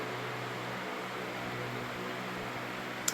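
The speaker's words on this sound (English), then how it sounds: "Sorry about that fan noise in the back." Steady, faint background fan whir in a hot workshop during motorcycle servicing on a Yamaha TX750, a constant broadband hiss with no talk and a tiny click at the end.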